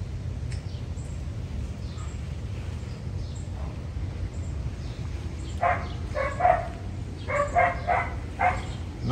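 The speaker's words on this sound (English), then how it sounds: "Not sure what dog that is." A dog barks in short clustered bursts from some distance off, heard from a backyard garden on a 100-degree day, over a steady outdoor hum with faint bird calls.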